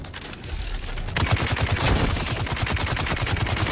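Rapid automatic gunfire rattles in Dune: Awakening, starting as quieter shots and then swelling into a loud, sustained burst of fast, evenly spaced rounds that runs to the end.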